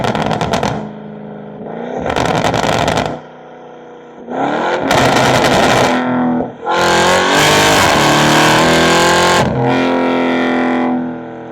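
BMW M550i with a V8 exhaust revving hard in loud bursts separated by short gaps, the later rev held longer and rising in pitch, with crackling pops as the throttle lifts.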